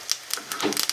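Mustard seeds popping in hot oil give sharp, scattered little clicks and crackles at an irregular pace, close by and fairly quiet, with a light sizzle underneath.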